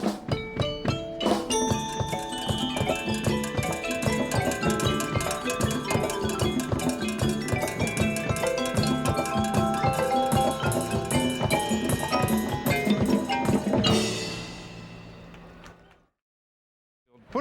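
Drum corps percussion ensemble of marimba, xylophone, drums, cowbells and agogo bells playing together, loud and dense with steady rhythmic hits under ringing mallet tones, then cutting off abruptly.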